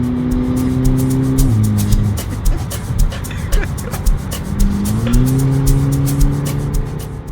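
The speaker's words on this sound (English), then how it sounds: "this is us going there with his GTI, which actually sounds sublime" A Volkswagen GTI engine hums steadily while driving, with the tone dropping and rising as gears shift, close and fairly loud, with road noise and intermittent thumps.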